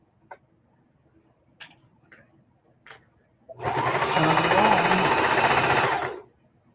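A sewing machine back stitches along the edge of a mitered quilt binding, running steadily and loudly for about two and a half seconds after a few faint clicks and taps.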